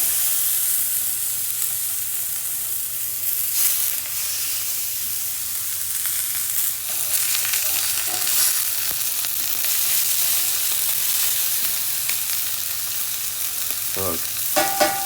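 Venison frying in a cast iron pan with a little olive oil, giving a steady, loud sizzle throughout with a few brief crackles and scrapes, and no talking.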